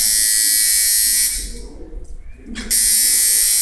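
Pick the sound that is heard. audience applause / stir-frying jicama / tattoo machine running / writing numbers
tattoo machine running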